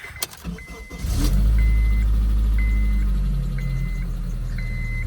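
A salvage Dodge Challenger Hellcat at an auction lot cranks with a brief starter whine, catches with a loud deep roar, then settles into a rumbling idle close by.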